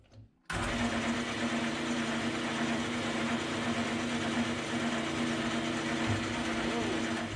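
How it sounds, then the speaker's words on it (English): A metal lathe turns a part for a supercharger manifold, starting abruptly and then holding a steady, loud mechanical whir with a constant hum, close by and uninterrupted. "why don't I put my lathe to use?"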